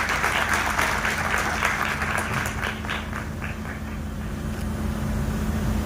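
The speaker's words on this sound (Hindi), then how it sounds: "पहले मैं चाहूंगा शहर तालियां बजाकर अभिनंदन करे" An audience at a literary festival in Indore bursts into sustained applause, a dense wash of many hands clapping that swells early and gradually thins toward the end, with no speech over it.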